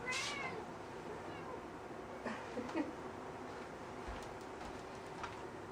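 A cat meows once near the start, fairly close, then soft household noise and faint ticking follow.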